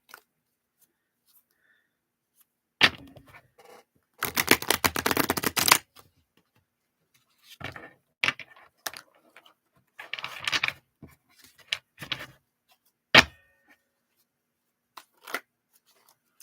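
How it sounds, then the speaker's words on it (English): A large deck of good-quality card-stock tarot cards is shuffled in close, crisp bursts of riffling and snapping, with quiet gaps between the rounds and no talking. "it's just the size of the deck is hard to shuffle."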